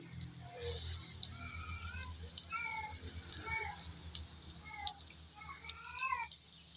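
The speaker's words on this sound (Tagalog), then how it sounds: "ang ingay ng pusa, talagang nakisabay siya" A cat meows repeatedly, several drawn-out calls in a row at moderate distance, over a steady sizzling background of garlic frying in cooking oil.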